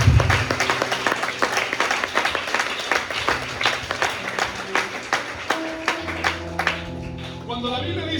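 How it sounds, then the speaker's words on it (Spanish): A church congregation claps during an evening service, with a steady run of fairly close, evenly spaced claps that thin out toward the end as music picks up. "Denle una ofrenda de palmas a Dios en esta hermosa noche."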